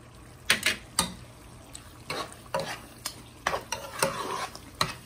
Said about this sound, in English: Giving it a stir because you want the season to go through the eggplant stew